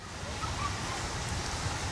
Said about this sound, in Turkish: Bugün de bayağı rüzgarlı.